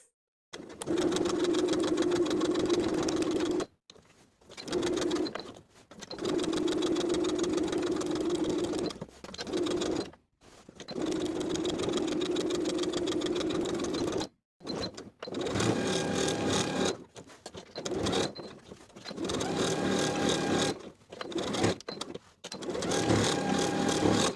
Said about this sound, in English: We're going to top stitch the side and bottom edges of the pockets in place twice.